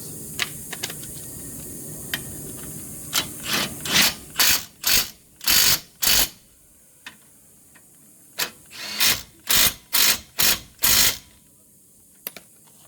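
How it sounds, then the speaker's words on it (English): A ratchet and impact wrench drive a bolt on the front brakes of a 2018 VW Atlas, giving a series of short, sharp mechanical bursts in two clustered runs, close and loud against a quiet garage background. "Start the boss by hand, and then you can switch to your ratchet with the impact."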